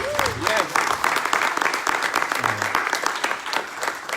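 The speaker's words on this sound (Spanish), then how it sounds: "démosle un aplauso de cariño a ellos" A church congregation gives a warm, sustained round of applause, dense and fairly loud, with a few voices calling out over the clapping.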